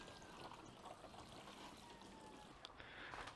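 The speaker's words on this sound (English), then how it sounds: "And then just water her in." Water poured from a can onto compost sprinkled over a seed tray for carrot seedlings, a steady close trickle and patter running the whole time with no talk.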